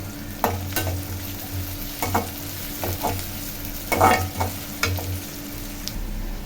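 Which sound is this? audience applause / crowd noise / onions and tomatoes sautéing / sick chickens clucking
onions and tomatoes sautéing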